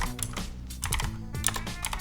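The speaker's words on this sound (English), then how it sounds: "to actually access the FTP server of the machine, I want to type in FTP" Someone types an FTP command on a computer keyboard: quick bursts of crisp, close key clicks with brief pauses between them.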